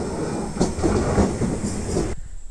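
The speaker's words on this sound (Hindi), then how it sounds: "जैसा कि हाथ हिलाया जा रहा है इस ट्रेन को खड़ा होने के लिए" A New South Wales passenger train rumbles and clatters as it slows to stop at Wondabyne station, a steady close rolling noise with rhythmic wheel clicks that drops away abruptly near the end.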